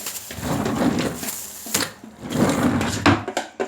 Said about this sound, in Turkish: Çekmeceye koy önündeki çekmeceye.